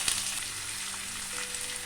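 Steady, dense sizzle of chopped onions frying in hot oil, continuous and close, with no voices.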